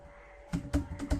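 A computer keyboard gives a quick burst of about four soft, close keystrokes in under a second, with no talking.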